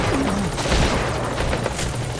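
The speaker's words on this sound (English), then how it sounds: "Support helicopter has arrived." Support helicopter in the Metal Gear Solid V game arriving, a steady broad rotor-like roar held at constant loudness throughout with a few faint tonal blips over it.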